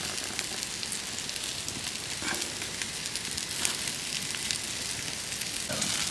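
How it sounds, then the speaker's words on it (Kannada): Chicken frying in ghee, giving a steady, dense sizzle and crackle at moderate volume with occasional sharper pops, no talk over it. "ಇದು ಕ್ಲೀನಾಗಿ ಫ್ರೈ ಆಗೈತೆ"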